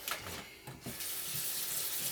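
Tap water running steadily into a pot of frozen mixed vegetables seasoned with butter, salt and pepper, a continuous close splashing pour with no talking.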